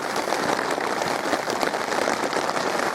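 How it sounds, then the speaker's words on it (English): Rain just beginning to fall over a wild camp at Plas Norwy Quarry in Wales, heard as a steady, dense, even patter that fills the whole stretch without letup. "it's just started raining"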